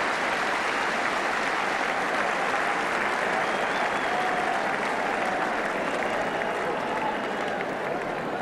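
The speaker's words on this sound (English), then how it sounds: "Pat Jennings looks surprised at the applause" Sustained applause from a large football stadium crowd after a goalkeeper's save in a 1978 Arsenal v Ipswich match, a dense, steady roar of clapping filling the whole stretch with no break.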